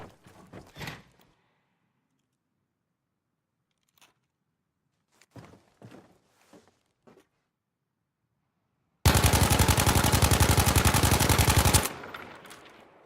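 Assault rifle firing in Battlefield V Firestorm: a loud continuous automatic burst of about three seconds, preceded by scattered faint clicks and handling thumps and followed by a brief tail of rattling.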